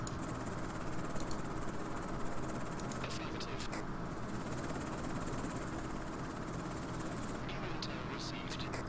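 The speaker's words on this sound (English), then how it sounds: "I'm sending out the chopper" Helicopter in the video game Afghanistan '11, a continuous droning engine and rotor rumble that holds steady throughout, with a few brief higher clicks and rattles mixed in.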